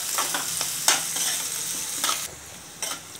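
Chopped onions sizzling in hot oil in a pan for a desi aloo-anda curry, soft crackling hiss broken by a few sharp bursts of stirring and scraping, close and fairly quiet.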